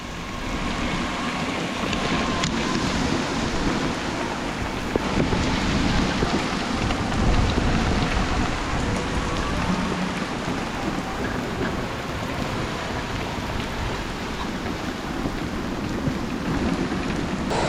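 Steady broadband rain hisses loudly and continuously throughout, pattering on surfaces during an e-bike ride, with no talking.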